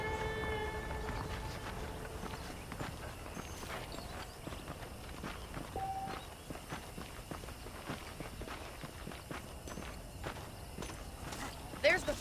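Horse hooves clip-clop at a steady walking pace over ground in the video game Red Dead Redemption, a continuous rhythmic patter mixed with ambient game sounds and occasional talk.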